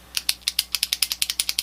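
Rapid series of about fourteen sharp mechanical clicks from the tail switch of a Thrunite Ti4 penlight being pressed repeatedly to reach its hidden strobe mode, close and crisp with no talking.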